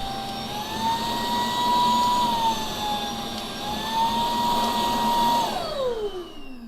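A Kenmore SpotLite Go cordless carpet cleaner runs with a loud, steady motor whine and rushing suction, wavering slightly in pitch before spinning down toward the end.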